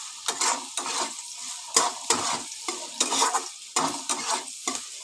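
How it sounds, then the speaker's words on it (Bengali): Chopped onion and carrot fry in a pan for soya chowmein, the steady sizzle broken by loud, rhythmic scrapes and clatters of the stirring spoon about every half second. "এবার পেঁয়াজ কুচিটাকে গাজরের সঙ্গে আমি ভালো করে ভেজে নেব।"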